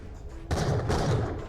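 Loud gunfire in Borderlands: The Pre-Sequel, with two heavy blasts in quick succession after a quieter lead-in, each leaving a short rumbling tail.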